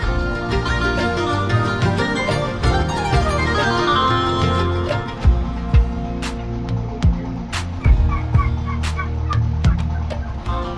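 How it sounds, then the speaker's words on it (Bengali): Black-meat chickens on a farm cluck and call repeatedly at close range, with sharp, irregular clucks rising over a steady, busy background of fowl sounds. "এটা অনেক স্পেশাল একটা মুরগি।"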